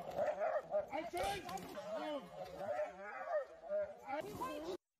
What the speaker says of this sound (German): Sie schlägt mit irgendwas auf den armen Hund ein.